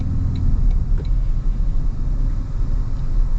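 A 2025 Toyota Tundra Platinum with a twin-turbo V6 pulls hard under acceleration, a steady low engine rumble and road roar filling the cabin, heavy and continuous throughout.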